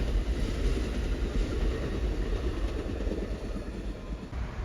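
Surfliner passenger train rolling past, a steady close rumble of wheels and rail noise with faint clickety-clack, holding at an even loudness throughout with no voices.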